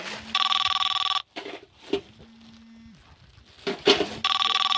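Mobile phone ringing outdoors at a rubber plantation, a loud repeating electronic ring tone that sounds in bursts at the start and end, with a quiet pause and some faint background noises in between.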